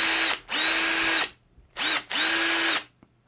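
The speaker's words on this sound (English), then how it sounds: "So I might angle the drill towards the sides where there's still a prominent lip." A power drill bores out the rivet of a Hot Wheels diecast toy car, running in two loud, whining bursts of about a second each, separated by a short pause.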